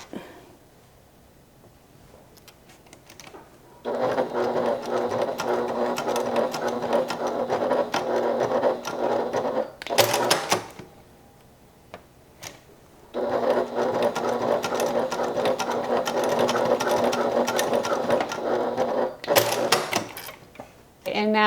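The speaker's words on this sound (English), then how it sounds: "just for fun this time, I'm going to go ahead and stitch that" A sewing machine stitches a bag key fob in two long, even bursts of rapid buzzing whir, close and loud, separated by pauses with brief handling clatter.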